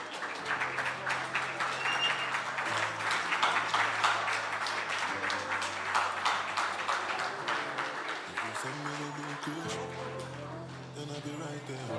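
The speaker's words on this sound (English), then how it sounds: "Let's clap for the contestants." An audience applauds with steady, dense clapping that swells slightly, while music plays underneath.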